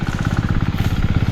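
Two engines run together to pump irrigation water on a farm field, a loud, close, steady clattering throb with a fast rhythmic pulse and no talk over it.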